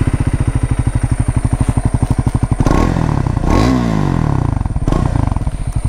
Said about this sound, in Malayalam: എത്ര മൈക്കിൽ കേൾപ്പിച്ചാലും എക്സോസ്റ്റ് നോട്ട് ശരിക്കും കേൾക്കുന്നതിൻ്റെ അത്ര ഒരു ഫീൽ കിട്ടൂല കേട്ടോ